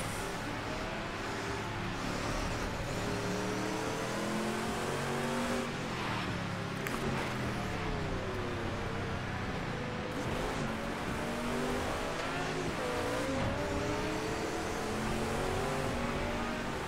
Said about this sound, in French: Oh là là, oh le patinage, c'est impressionnant.